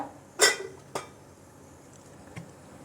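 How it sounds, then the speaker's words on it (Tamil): A cooking pan is set down on a stove with one sharp metallic clank, then a lighter knock and a faint tap in a quiet kitchen. "ஒரு பேன் வச்சுருக்கேன். அடுப்பில்"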